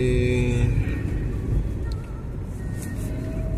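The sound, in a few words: car driving slowly on a road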